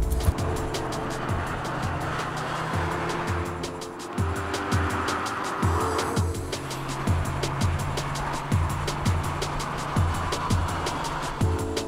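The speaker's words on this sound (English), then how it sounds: "It's the Mercedes SLK, but it's the entry-level 200 compressor, and yes, all right, we'll drive it." An entry-level Mercedes SLK 200 Kompressor convertible driven on the road, its engine and tyres giving a steady drone with rhythmic bumps and a faint high whine throughout, no talk.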